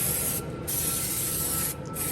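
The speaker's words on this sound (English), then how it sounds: "I will go ahead and spray the grate." Hissing bursts of olive oil spray onto a grill grate, two short gaps between long continuous sprays, close and fairly loud.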